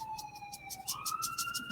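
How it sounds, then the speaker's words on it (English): Emergency vehicle siren out in the neighborhood, a faint distant wailing tone sliding upward in pitch, heard through a window over quiet room noise. "That's a siren in the background."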